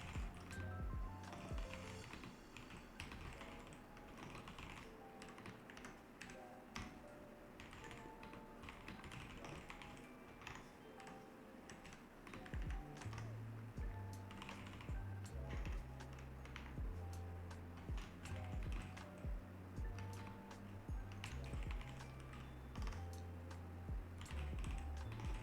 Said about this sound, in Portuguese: Eu vou digitar aqui e depois eu explico direitinho.